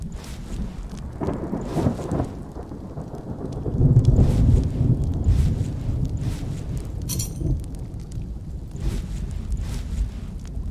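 A thunderstorm rolls through in the video game Outlaws of the Old West, with heavy rain hissing steadily, deep rumbles of thunder swelling and fading, and a loud crack near the middle.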